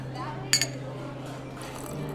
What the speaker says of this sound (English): he gave the ice cubes a twirl in his glass